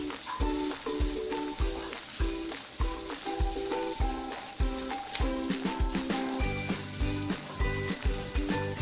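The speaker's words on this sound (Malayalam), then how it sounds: "ഒരു ചെറിയ കഷണം ഇഞ്ചി പിന്നെ ഒരു കഷണം ചുവന്നുള്ളി ചേർത്ത് കൊടുക്കുന്നു രണ്ട് തണ്ട് കറിവേപ്പില ഇനി ഇതൊന്ന് വറുത്തെടുക്കാം നമുക്ക്" Ginger, shallot and curry leaves roast in a pan with coconut for a Kerala prawn theeyal, a constant hissing sizzle running beneath loud rhythmic background music with a steady beat.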